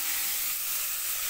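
Chopped onion sautés in hot oil, a loud, steady, close hiss of sizzling that holds unbroken from start to finish.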